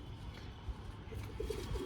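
Soft, low cooing from a male Giribaz pigeon, a couple of brief rolling calls near the end over a faint steady background.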